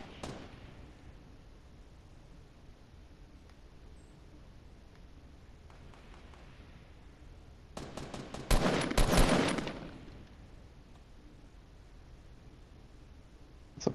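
Rapid gunfire in a Fortnite Battle Royale duos match erupts in one dense burst lasting over a second, standing out against an otherwise quiet, faint background.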